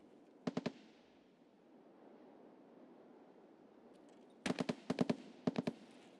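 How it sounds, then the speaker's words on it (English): Gunfire in Escape From Tarkov: one short burst of rapid automatic shots, a quiet stretch, then three more tight bursts in quick succession, echoing moderately far off over a low ambient rumble. "It's a lot of shooting and fighting in this area"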